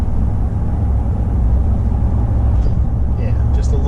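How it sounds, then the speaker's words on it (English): A Ram 1500 pickup fitted with a Flowmaster Flow FX exhaust gives a steady, low rumble while accelerating, a continuous deep drone with road noise. "just a little bit of a nice rumble when you have to accelerate slightly"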